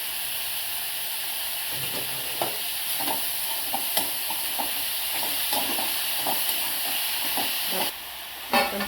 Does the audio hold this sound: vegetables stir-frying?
yes